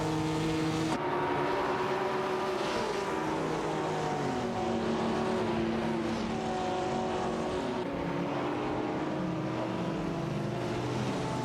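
Classic race cars, a Jaguar D-Type and a Maserati 450S, battling in a racing video game, engines droning and revving in overlapping rising and falling tones, loud and sustained with shifting pitch as they jostle.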